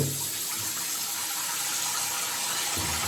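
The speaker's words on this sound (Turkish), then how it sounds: "Suyumuzu hazırlıyoruz yine" A tap runs steadily into a basin to prepare water for a wet shave. The gushing flow is continuous and close, and nobody speaks.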